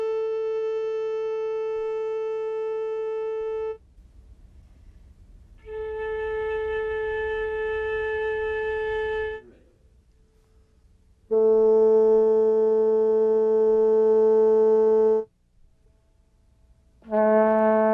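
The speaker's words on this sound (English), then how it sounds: "Here's the same note played on many different instruments." A single sustained note played in turn on several instruments, each lasting a few seconds with a different tone colour, separated by brief pauses.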